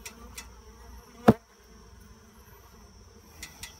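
Honey bees buzz steadily around a hive being cut out of a wall lined with insulation, a close, low hum broken by one sharp knock midway and a couple of faint clicks near the end.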